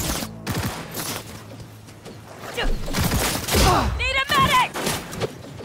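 Gunfire in Cyberpunk 2077 (Part 48, crucifixion and Basilisk mission): bursts of shots and thuds in a chaotic firefight, mixed under shouted voices calling out during combat.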